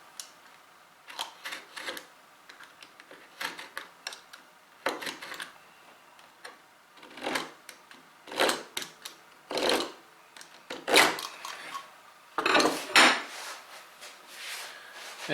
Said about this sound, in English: I'm going to just deepen the knife lines for the shoulders around the tenon.